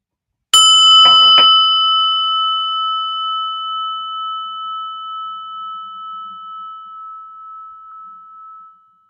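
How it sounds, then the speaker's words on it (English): A single prayer bell is struck once, ringing out with a clear bright tone that hangs and slowly fades over several seconds. "and listen to the prayer bell."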